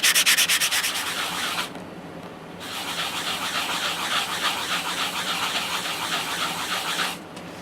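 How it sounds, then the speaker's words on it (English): Sandpaper rasps against a coin ring being sanded down, rhythmic back-and-forth strokes close up, pausing briefly near the start and again near the end, no talk. "You take your sponge or your sandpaper and you just put your ring down and you just sand that down real."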